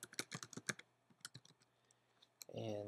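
A computer keyboard is typed on in quick, close, crisp keystrokes, sparser in the middle, with a voice beginning at the end.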